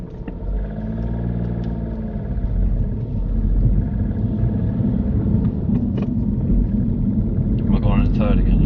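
A learner driver's car moving off on a driving lesson: a steady low engine rumble and road noise that builds slightly, with people talking in the car over it.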